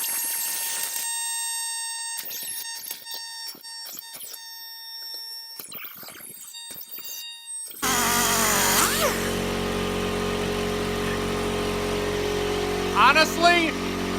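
Angle grinder cutting into driftwood, a harsh loud motor whine with a rough grinding rasp that starts midway and runs continuously after a stretch of quieter clattering and tones.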